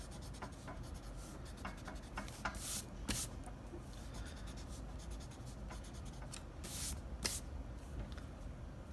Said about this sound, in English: then we can erase some of the original geometric shapes that we used